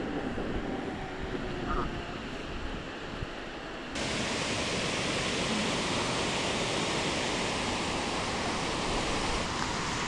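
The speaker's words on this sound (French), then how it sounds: "Belle cascade." A waterfall on a mountain walk in Corsica, between Zicavo and Quenza, gives a steady broadband rush of falling water that swells louder partway through and then holds as a continuous roar.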